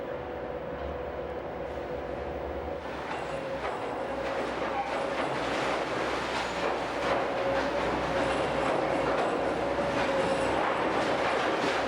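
An RhB train on the Swiss Engadine line runs with a steady, loud broadband rumble and a faint sustained tonal whine, the noise swelling slightly partway through and continuing unbroken to the end.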